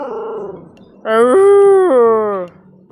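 A pet puppy lets out a loud, sustained, wavering howl held for over a second, preceded by a softer whine-like cry, close by with no talk.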